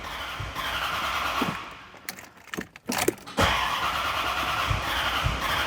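A supercharged Corvette engine cranking at wide open throttle during a no-start: loud, continuous starter churning that stops briefly with a few clicks, then resumes.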